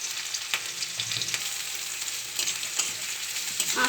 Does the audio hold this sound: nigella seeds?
yes